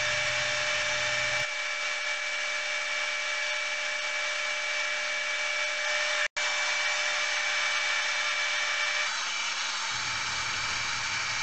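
A wooden sphere turning on a lathe is sanded, giving a steady broadband abrasive hiss over the motor's constant tonal hum, with a brief cut near the middle and a low rumble that drops away in the quieter stretch.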